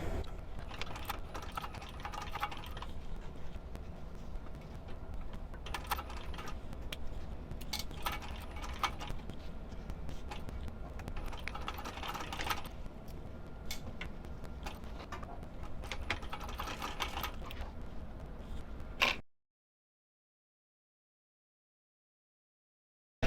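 A sewing machine top-stitches the corners of a coin purse with a continuous, rapid mechanical clatter. The stitching runs in a few uneven bursts for about nineteen seconds, then stops into silence.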